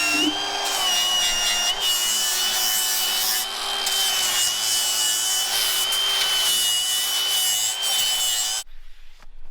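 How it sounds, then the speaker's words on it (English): A power tool grinds and shapes a metal gutter piece up close, a loud, continuous whining abrasion with slight shifts in pitch, stopping abruptly near the end. "I'm gonna do a little bit of grinding and shaping"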